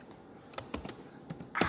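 Light, sparse taps on a computer keyboard, a handful of separate keystrokes in a quiet room, faint and close, ending in a slightly louder cluster.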